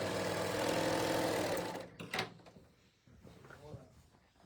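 A sewing machine stitches quilt fabric in a fast, steady mechanical whir that stops after about two seconds, followed by clicks and handling noises with faint talk.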